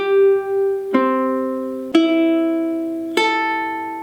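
Four plucked tenor ukulele strings sounded one after another, from the fourth string down to the first in standard tuning, each note ringing clearly and decaying slowly before the next begins, alone with no talk.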